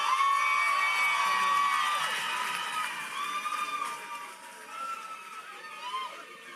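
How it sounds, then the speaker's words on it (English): A graduation ceremony audience cheering and whooping with crowd noise, loud at first and then easing to scattered shouts and chatter; voices mix throughout. "So give him an extra special round of applause"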